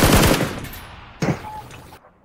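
SCAR-L rifle firing in PUBG: a rapid automatic burst, then a short second burst after a pause, loud and close, with the shots ringing off into quiet.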